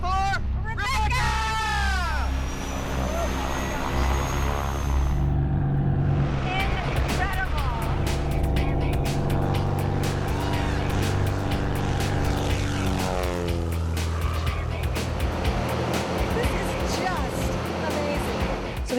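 Aircraft engine and propeller drone steadily inside a small plane before a skydiving jump, loud and continuous, with voices chattering over it.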